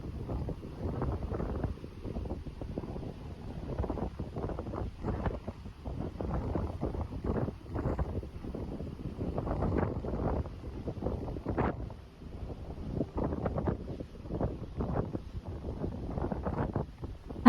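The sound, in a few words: morning atmosphere outside on a passenger ship deck, wind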